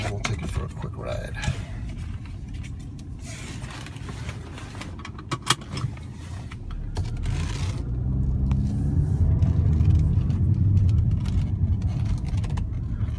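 A 2012 Audi A4 Premium Plus S Line turbo with 30k miles pulls away from inside the cabin, a steady low engine rumble swelling as it accelerates, with small rattles and clicks and a person talking over it.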